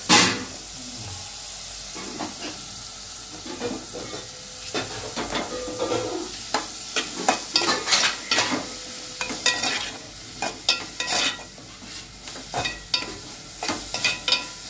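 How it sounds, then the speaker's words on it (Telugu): Curry leaves, carrot and potato fry in a pan for a gram flour curry, a steady sizzle broken by repeated scraping stirs of a spoon against the pan, close and clear. "మంచిగా ఫ్రై చేసుకోవాలి."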